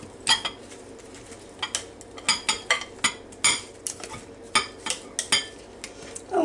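Salted cucumber slices being moved into a smaller bowl while making cucumber salad, heard as a series of sharp, irregular clinks and scrapes of utensil against dish, fairly faint and close with short gaps between taps.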